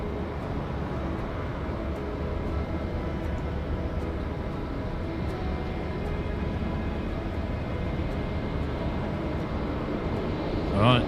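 A Boeing 787 on short final approach at Auckland Airport makes a steady, distant low jet rumble and roar that holds through the whole stretch, with a faint bump near the end.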